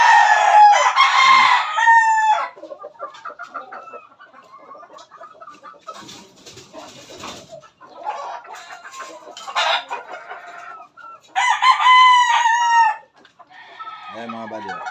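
Bred gamefowl roosters crow loudly in several bursts, with softer clucks and farmyard chatter between them, close by and outdoors.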